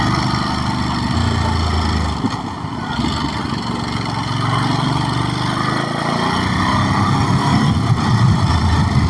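A Ducati Monster SP 950 motorcycle engine drones steadily while riding, with a brief dip in revs, apparently a gear shift, before the throttle picks back up, heard close and loud throughout.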